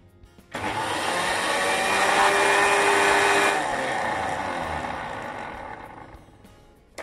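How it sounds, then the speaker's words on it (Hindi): An electric kitchen grinder whirs loudly as it blends dry-roasted oats into powder, starting abruptly, holding a steady high whine for several seconds, then winding down. "इनको मैं ग्राइंडर में ग्राइंड करूंगी ताकि ये पाउडर बन जाए लड्डू के लिए"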